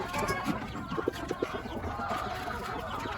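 Ready-to-lay hens clucking on a small egg farm, soft short clucks scattered over a steady, noisy farmyard background, fairly close.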